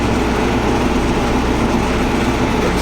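A tractor's engine idles at night, a steady, close, unbroken low rumble that stays even throughout.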